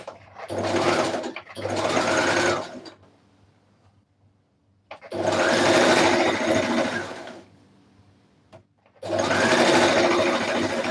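A sewing machine stitches a red carpet dress in three bursts of fast, whirring needle action, separated by short pauses with faint handling noise.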